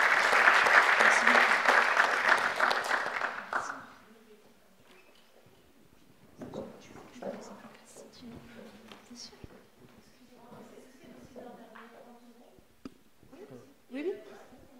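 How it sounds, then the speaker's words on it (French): Audience applause greets round-table speakers being called up at a French panel evening on sport and disability, loud and sustained for about four seconds, then dying away into scattered room noise and a brief spoken thanks. "Vous pouvez les applaudir."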